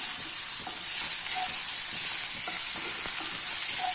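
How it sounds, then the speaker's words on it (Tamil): Turmeric, chili powder and garam masala fry in a pan over a low flame while being stirred, giving a steady close sizzle and hiss with soft scraping strokes throughout. "நல்லா கிளறி விட்டுறலாம். கண்டிப்பாக சிம்மில் வச்சுக்கோங்க, இல்லைன்னா மசாலா கரிஞ்சு போயிடும்."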